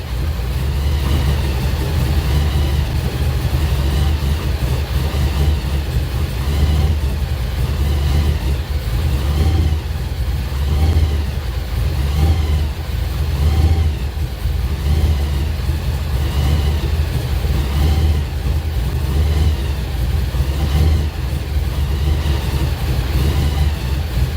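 A 1955 Chevrolet V8 engine idling steadily as it warms up, a continuous low rumble with a slight rhythmic pulse, loud and close, with no talking.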